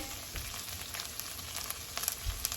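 Shredded cabbage frying in a 9.5-inch skillet for a keto turkey and cabbage stir fry, giving a steady close sizzle with faint crackles and a few soft stirring bumps throughout.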